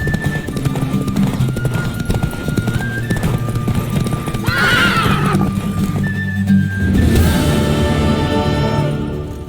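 Horse hooves clip-clop at a gallop in The Witcher 3, with loud whinnies and neighs breaking through over steady in-game ambience and a burst of commotion toward the end.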